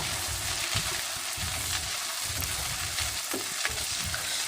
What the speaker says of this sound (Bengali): আমি মশলাটাকে ভালো করে ভেজে নিচ্ছি মশলাটার গন্ধটা যেন চলে যায়